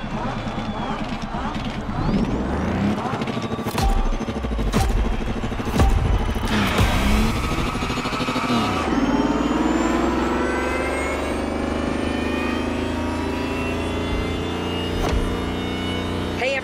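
A Lamborghini Terzo Millennio electric supercar in the racing game The Crew Motorfest gives off a futuristic synthetic whine that rises and sustains, following a busy stretch of bursts and impacts, loud and close.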